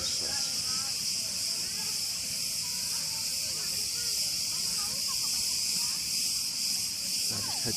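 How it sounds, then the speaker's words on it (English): Crickets at a Cretan resort hotel in Malia keep up a steady, continuous high-pitched chirring that fills the background throughout, with faint low rumbling underneath and no speech. "The only thing wrong, as maybe you can hear here now, is the crickets."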